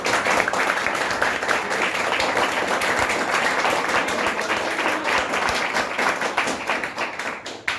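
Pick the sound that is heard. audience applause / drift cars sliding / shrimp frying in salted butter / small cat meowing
audience applause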